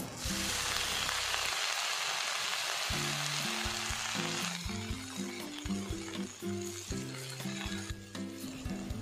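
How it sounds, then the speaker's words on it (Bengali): Taro and eggplant fry in a pan as Malabar spinach leaves go in, a steady loud sizzle with stirring scrapes, joined midway by a repeating low tonal melody running under the frying. "কচু এবং বেগুনগুলো প্রায় ভাজা হয়ে এসেছে। এই অবস্থায় আমি দিয়ে দিচ্ছি কেটে রাখা পুঁই পাতাগুলো।"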